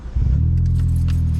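A Vauxhall Corsa engine cranks and catches, then settles into a loud, steady low idle close by, with light key jingling heard during the start.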